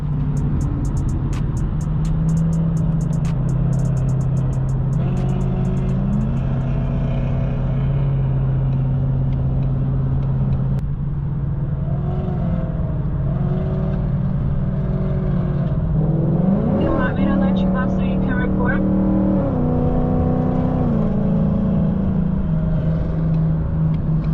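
A Ford Mustang engine, said to sound like a NASCAR racer, drones loudly and steadily from inside the car as it drives, then revs up in a rising surge before settling back.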